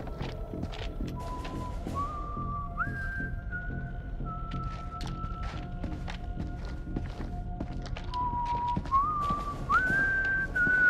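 A melodic whistled tune rises in stepped pitches in the video game House of Ashes, repeating in two phrases over a steady backdrop of footsteps and light thumps.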